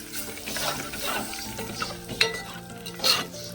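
Hot oil sizzles and crackles steadily as spices and curry leaves are tempered, with a few sharper pops and a faint clink of a pan.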